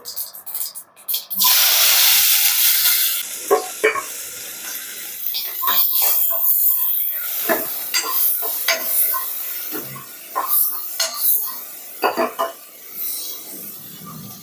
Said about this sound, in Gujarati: તો આ જ પેનમાં આપણે જીરાનો વઘાર કરશું. જીરું તતડી જાય એટલે હિંગ એડ કરશું અને ત્યારબાદ લીમડો અને ડુંગળી એડ કરી દેશું.